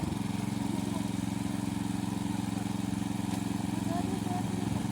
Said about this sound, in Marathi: पॉवर विडा चालू केल्यानंतर आम्ही